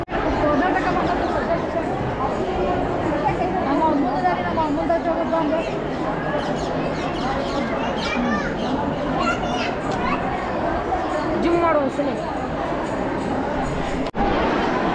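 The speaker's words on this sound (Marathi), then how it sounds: "बघू शकता तिथं आत खूप गर्दी आहे." Dense crowd of pilgrims packed inside Shree Danamma Devi Temple in Guddapur, a steady close babble of many overlapping voices, children among them, continuous throughout.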